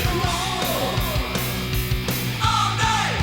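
A loud, dense 1980s hair metal band excerpt plays with a steady, driving drum beat, distorted guitars and a wailing, high vocal line over the top.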